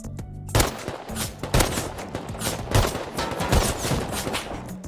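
Repeated gunfire from a firearm in the Rust survival video game, with loud, closely spaced shots in bursts over a busy game background, no voices.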